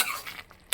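Vegetable curry paste for a mixed vegetable kurma being stirred in a pan, a short scrape and clink of a spoon against metal, loud at first, then a quiet gap before another brisk scrape.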